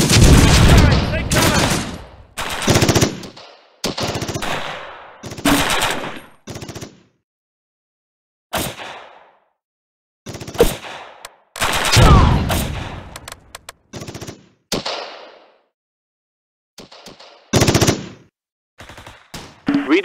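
Heavy automatic and rifle gunfire from the wartime strategy video game Close Combat: loud, clustered bursts and rattling volleys separated by brief silences, with occasional game voice lines between the shots.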